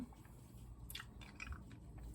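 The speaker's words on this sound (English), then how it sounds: "I chew on it." Ice being chewed, with crunchy, biting bursts scattered over a steady low background hum, close up and moderately loud, no talking.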